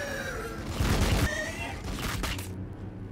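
Battle gunfire from Warhammer 40,000: Battlesector, a dense burst of rapid shots and booms around one second, then a second rattling volley, all loud and close with a rumbling low end.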